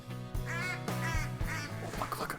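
Ducks quack repeatedly in theHunter: Call of the Wild, heard from a blind during a cinnamon teal hunt, with several clear nasal calls in a steady run against a low game ambience.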